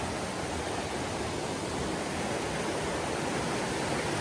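Stony Brook rushes along a hiking trail, a loud, steady wash of flowing water with no breaks or voices, filling the whole stretch as broadband hiss.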